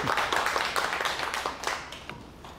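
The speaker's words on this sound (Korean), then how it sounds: "자, 큰 박수로 환영해 주시기 바랍니다." Audience claps in welcome for the vice chairman of Ildong Pharmaceutical at a CEO academy lecture, a fairly loud burst of individual claps that thins out over a couple of seconds.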